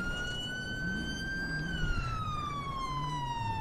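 In a police roleplay video game, a police car siren wails steadily in a long, gliding tone that rises and then falls, mid-distance under faint background rumble and no clear talk.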